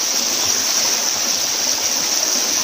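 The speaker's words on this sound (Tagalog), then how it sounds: "naririnig mo yung agos ng tubig" A shallow creek flows in a steady, even rush of running water, close and constant, with no one speaking.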